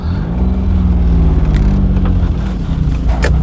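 A car on a driving test pulls away, its engine droning loud and steady with a rising, then easing tone as it accelerates, heard close from inside the vehicle.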